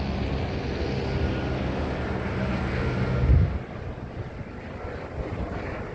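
A helicopter flies over an apartment building, a steady low droning rumble with wind buffeting that swells briefly near the middle, then settles back; no one speaks.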